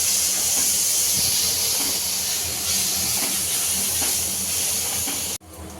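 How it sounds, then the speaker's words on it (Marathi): Ginger, garlic and green chilli paste sizzles and hisses steadily in a hot pan for vada pav filling, a dense continuous frying hiss close up with no talk, cutting off abruptly near the end. "आपलं जे आलं लसूण आणि मिरचीचं पेस्ट होतं ते आपण छान परतून घेतलंय"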